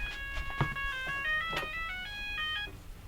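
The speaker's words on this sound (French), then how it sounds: "Ah oui, il y a du téléphone." A telephone rings indoors, a bright electronic melodic ringtone of stacked tones repeating for about three seconds, fairly clear and close, with no talking over it.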